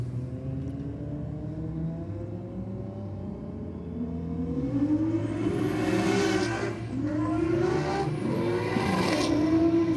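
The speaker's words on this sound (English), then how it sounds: "R32 nearly tapped the wall, corrected it, powered through." A Nissan Skyline R32 race car accelerates hard in a roll race, its engine note climbing steadily through the gears with a loud, sustained roar heard from a moderate distance.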